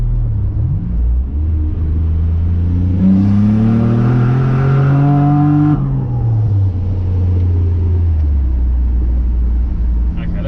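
A Nissan Navara with a turbocharged VG30 V6 pulls hard through second gear at about 14 psi boost, the engine note climbing steadily and loud from low revs to the top before easing off, heard from inside the cab.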